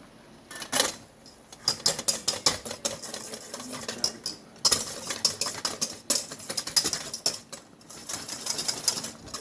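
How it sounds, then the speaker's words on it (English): Egg and powdered sugar for royal icing are whisked briskly in a bowl, a rapid run of clattering, scraping strokes against the sides with short pauses, close and fairly loud, with no speech. "Basically, you just continue with whisking until it sort of steams"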